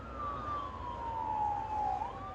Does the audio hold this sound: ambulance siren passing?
yes